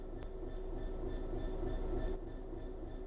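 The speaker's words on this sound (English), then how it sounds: "Let's get the train moving and see it all working." Simulated train in Train Sim World 3 starting to move, a steady low rumble with faint tonal hums, moderately quiet and continuous throughout, no voices.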